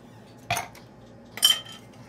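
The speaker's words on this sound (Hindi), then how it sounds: "आइस क्यूब्स डालेंगे" Ice cubes drop into a glass in two separate bursts, each a short rattling clink close by and fairly soft, with a quiet pause between them and no talking.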